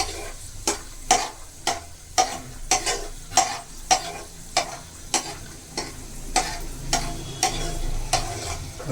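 Sesame seeds roast in a pan over a low flame, with a spatula scraping through them in regular strokes about twice a second over a soft steady sizzle.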